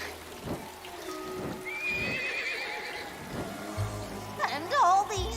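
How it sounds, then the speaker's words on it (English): Rain patters steadily in the background while a horse whinnies and hooves clop, with a loud animal call near the end. "All this rain."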